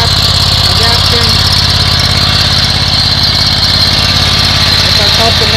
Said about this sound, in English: So this is our Predator.